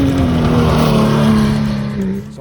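A Porsche 911 converted into an off-road trophy truck accelerates hard at full throttle in second gear, its engine note loud and close, rising steadily in pitch before it eases off near the end.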